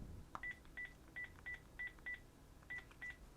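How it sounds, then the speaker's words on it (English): A Panasonic DECT 6.0 cordless phone plays keypad tones while a number is dialed. There are eight short, evenly spaced beeps in two groups after a small click, and the tones are faint and clean. "we can dial a number"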